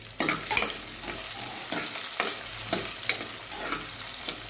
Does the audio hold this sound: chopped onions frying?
yes